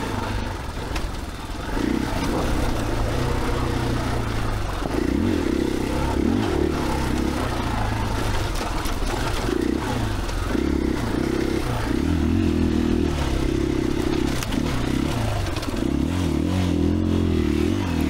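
A 2021 KTM 500 EXCF dirt bike grinds up a steep trail switchback with a slipping clutch, its engine droning loud and close with uneven surging revs and clattering over rough ground throughout.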